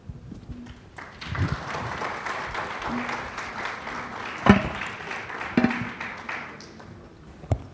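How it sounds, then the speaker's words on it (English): An audience at the Cape Town Conversation 2024 panel event applauds the panelists, a sustained wash of clapping from a large crowd in a hall, steady throughout with a few sharper claps near the end. "Maybe you can join me in applauding them."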